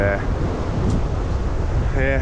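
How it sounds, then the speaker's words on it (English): Steady wind rushing and buffeting at a Wicklow shoreline, loud and continuous, with a brief voice near the start and end. "yeah, it's a bit windy, but listen"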